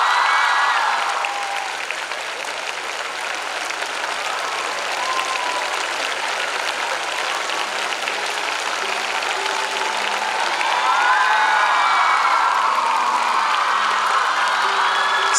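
A large school crowd at a prize announcement for Carmel Girls Inter College claps and cheers continuously, with whoops and shrill shouts rising and falling over steady applause and swelling again near the end.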